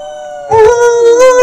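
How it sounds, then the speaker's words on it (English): A wolf-like creature howls in the Prodigy Math Game, a loud, rising and wavering tonal cry that sits over a steady synthetic drone. "You're gonna start a howl."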